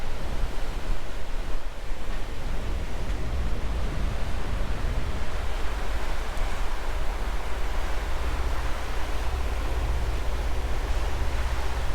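A Fairline Phantom 65 yacht creeps out of port at slow speed on a calm day. Low engine rumble blends with steady wash of water and breeze, continuous and even, with no talking.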